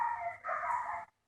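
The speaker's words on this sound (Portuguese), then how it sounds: "Quando vocês escutam o latido do cachorro, o que vocês lembram?" A dog barking, heard as a single short, faint, muffled bark-like sound of about one second with a slight dip partway, followed by silence.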